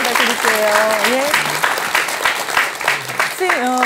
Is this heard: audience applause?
yes